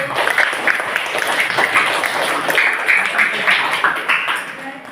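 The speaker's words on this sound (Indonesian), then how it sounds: "Jadi tepuk tangan untuk kelompok 1" Students in a civics classroom clap together for the first group, a steady, loud burst of many hands lasting the whole stretch with light voices mixed in.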